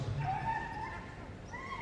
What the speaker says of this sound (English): Again, another vocal dog.